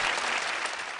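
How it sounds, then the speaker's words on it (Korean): An audience bursts into applause after a violin performance, a short dense clapping burst heard alone. "바이올린 하나로 좌중을 압도하는 거장의 연주에 박수갈채가 쏟아집니다"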